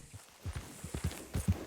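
A horse in the game Red Dead Redemption II clip-clops along at a steady walking rhythm, its hooves thudding softly and evenly over a faint hiss of background ambience.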